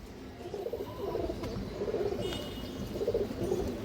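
Female pigeons coo in soft, repeated low burbling phrases close by, a gentle rhythmic cooing with no talk over it.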